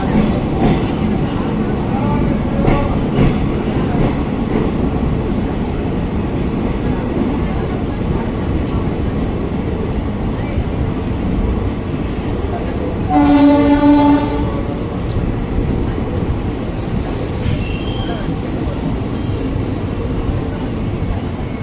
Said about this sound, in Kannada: ಮೂರು ನಿಮಿಷ ನಂತರ ನಮ್ಮ ಟ್ರೈನ್ ಕೆಂಗೇರಿಯಿಂದ ಹೊರಟಿದೆ